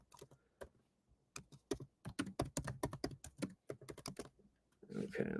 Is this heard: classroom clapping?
no